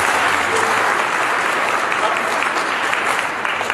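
An assembled audience gives soldiers a long round of applause, a loud, thick wash of clapping that holds steady throughout without pause.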